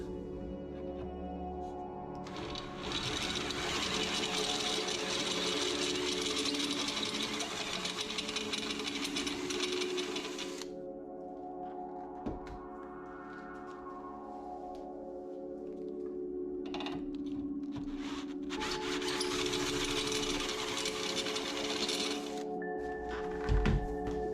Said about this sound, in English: I'll put the bigger step drill in